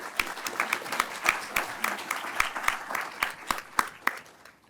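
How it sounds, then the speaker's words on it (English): A modest conference audience applauds a speaker named Karen after her talk, a fairly faint, sparse patter of clapping with distinct individual claps in an uneven rhythm, somewhat distant. "Let's give Karen a round of applause"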